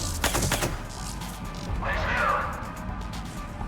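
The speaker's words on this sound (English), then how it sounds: "I'm just going to shoot my way out of this" Gunfire in Mass Effect 3, starting as a quick run of sharp shots early on and then giving way to a softer, hissing burst of noise as the shooting thins out.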